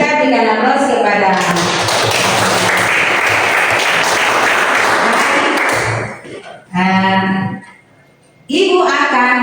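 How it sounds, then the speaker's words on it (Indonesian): Classroom applause, a burst of clapping from students lasting several seconds, loud and close, followed by a teacher's voice talking. "kita berikan aplaus"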